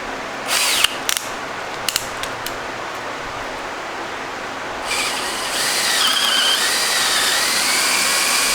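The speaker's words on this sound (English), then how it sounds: "Left-handed drill." A left-handed drill bit whirs steadily, drilling out a stuck bolt on a rusty Monarch 10EE lathe, starting with a few short stuttering bursts, then running continuously with a rising whine as it bites into metal.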